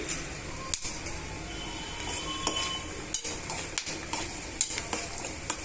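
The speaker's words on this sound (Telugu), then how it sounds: "వన్ టేబుల్ స్పూన్ పచ్చిశనగపప్పుని యాడ్ చేసుకొని వేయించుకోవాలి" Cumin seeds, urad dal and chana dal fry in a pan for a green chili peanut chutney, a soft sizzle under repeated light clicks and scrapes of a spoon stirring, with no talk.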